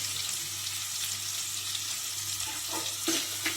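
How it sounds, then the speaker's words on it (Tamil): Onions and green chilies sautéing in hot oil for a potato masala, a steady close sizzle and hiss with faint stirring scrapes near the end. "பாருங்கள், வெங்காயம் நல்லா வதங்கிடுச்சு."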